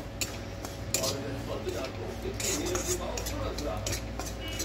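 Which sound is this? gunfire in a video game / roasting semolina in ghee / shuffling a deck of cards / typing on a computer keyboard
roasting semolina in ghee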